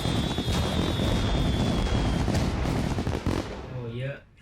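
Star fireworks in the video game Mini World: Block Art crackle and pop in a dense, continuous barrage, loud and close, with a thin whistle early on, before fading out near the end.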